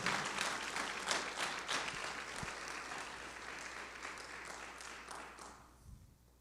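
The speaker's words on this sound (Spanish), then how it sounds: "Denle un aplauso fuerte si se lo va a dar a Dios." A church congregation applauds, a quiet wash of many hands clapping steadily in a room, thinning out toward the end.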